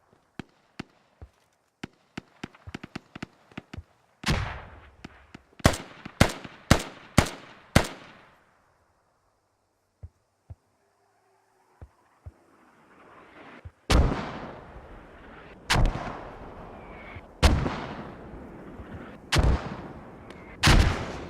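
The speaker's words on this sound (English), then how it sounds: "Mortars are up." Mortar fire in a video game: sharp, booming blasts come first as faint, scattered thuds, then as loud, rapid volleys with short echoing tails and pauses between them. No voices are heard.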